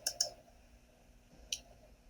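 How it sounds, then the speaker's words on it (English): Computer mouse clicks at a desk: two quick close clicks, a pause, then a third single click, crisp and quiet over a faint room hum. "Type in the name, click Search."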